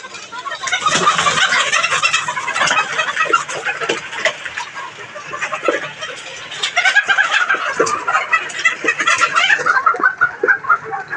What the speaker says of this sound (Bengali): দেখতে পাচ্ছেন আমাদের এই মুরগগুলা।